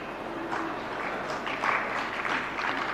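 An audience claps during a Hindi-language sermon by a Jain monk, a steady, moderately faint wash of applause from a crowd that swells slightly in the second half.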